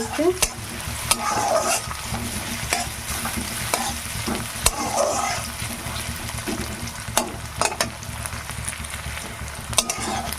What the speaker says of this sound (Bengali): এবার একটু ভাজবো প্রথমে পেঁয়াজটা বেশি ভাগ না একটু ভেজে নিতে হবে